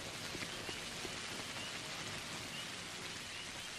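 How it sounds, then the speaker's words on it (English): Heavy rain pours in a video game, a dense, steady broadband hiss of falling water that continues unbroken from start to finish, with no voices over it. "it's raining so much!"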